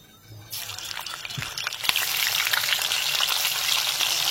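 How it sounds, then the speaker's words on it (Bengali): Paneer pieces fry in hot oil in a pan, a loud, steady crackling sizzle that starts abruptly after a quiet moment and continues without talk. "পুরো পনিরগুলো ভাজা হয়ে গেছে"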